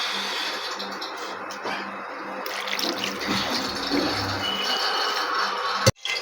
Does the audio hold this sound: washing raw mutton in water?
yes